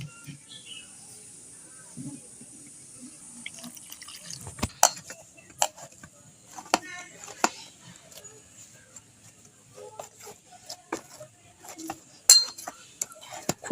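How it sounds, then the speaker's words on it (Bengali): Paratha flour dough being mixed and kneaded by hand in a bowl as water is added bit by bit, heard as soft wet squelches and scattered clinks of the bowl against a quiet room, with someone talking now and then. "এবার অল্প অল্প জল দিয়ে আমি মেখে নেব।"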